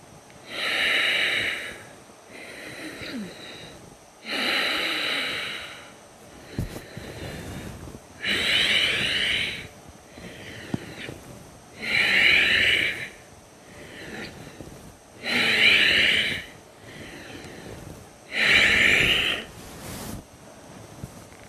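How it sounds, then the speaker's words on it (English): Forceful bhastrika bellows breathing in pranayama practice: loud, rushing breaths through the nose come in strong bursts every couple of seconds, alternating with softer breaths, close to the mic over about twenty seconds. "The second round, Bhastrika."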